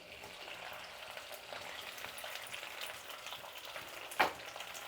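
Okra pieces fry in hot oil with a soft, steady sizzle, fairly quiet, and a single brief clatter near the end; no talking.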